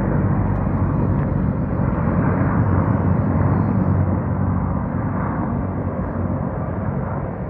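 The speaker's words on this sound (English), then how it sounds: "There's some of the helicopters." Helicopters fly overhead near an Encore RV resort, a loud, steady broadband rumble that holds for the whole stretch and fades slightly toward the end, with no talking.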